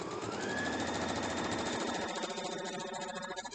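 A sewing machine stitches a quilt block with a quarter-inch presser foot, its steady fast motor whir and needle chatter running continuously and close for several seconds without talk.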